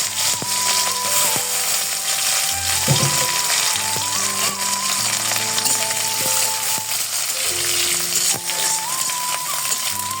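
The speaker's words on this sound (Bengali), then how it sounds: "শুটকিগুলোকে ভেজে নেব।" Washed dried fish frying in hot oil, a continuous close crackling sizzle that stays loud and even throughout, with no talking.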